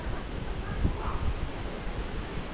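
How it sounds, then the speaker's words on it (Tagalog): Strong wind roars and buffets steadily across the microphone, a constant rushing noise with low thumping gusts and no other clear sounds. "malakas po yung hangin ngayon"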